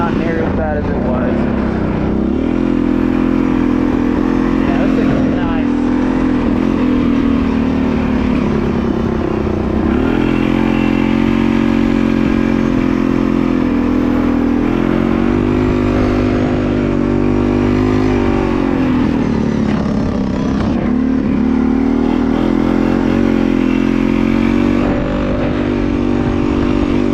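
A loud, close vehicle engine with a small exhaust leak drones continuously, its pitch rising and falling as it speeds up and eases off.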